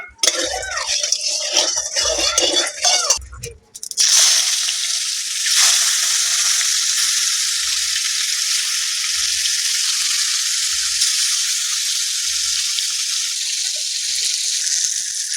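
Steady broadband hiss of rohu fish frying in hot mustard oil, continuous and fairly loud, with brief clatter at the start and soft low thumps throughout.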